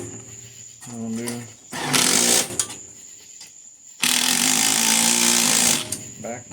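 A power tool drives down the bolts at the breather of a small engine with its recoil base and flywheel off, in two loud, sustained bursts with someone talking in between.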